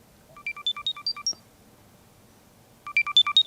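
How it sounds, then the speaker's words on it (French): LG Tone Free FP9 earbuds emit two bursts of rapid, high electronic locator beeps, each a quick run of about six to eight tones in a rising pattern, separated by a pause over quiet background. "vous entendez le petit bip, et comme ça vous pourrez les retrouver facilement"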